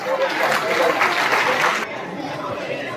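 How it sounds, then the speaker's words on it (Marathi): Loud, dense clapping from a large school audience at an Independence Day flag-hoisting and cultural program, sustained for nearly two seconds before dropping to a softer crowd murmur with a background voice. "टाळ्या वाजवायच्या सर्वांनी जोरदार."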